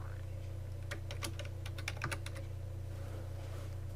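Keys clack on a computer keyboard as a name is typed, a short burst of about a dozen quick, close taps over a low steady electrical hum, then the room goes quiet.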